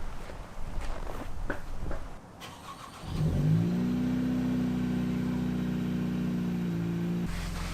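Cold start of an Acura Integra Type S car in snowy weather: footsteps and shuffling first, then the engine cranks, catches and settles into a loud, steady high idle close by.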